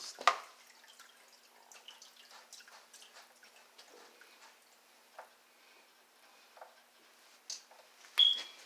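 Water drips from a gas hot water heater being replaced, giving faint, irregular small drops and taps scattered over a quiet background, with a louder plink near the end.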